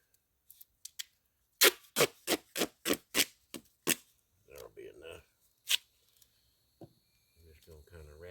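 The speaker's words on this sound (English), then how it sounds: "what I'm going to do is just take some of my duct tape here" Strips of duct tape are pulled off the roll in a quick series of sharp, rasping rips, followed by softer rustling and patting as the tape is pressed over a sharp edge on a catfish can, close and alone.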